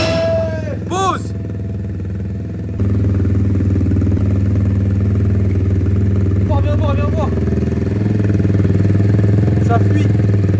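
A motorcycle engine turns over and catches, then settles into a steady, loud idle that runs continuously, with voices briefly heard over it.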